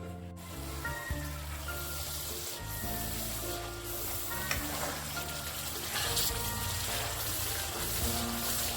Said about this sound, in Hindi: अभी हम इसे लीड लगा के लो फ्लेम पे पकने देंगे